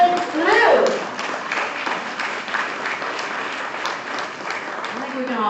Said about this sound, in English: I think we can all applaud for that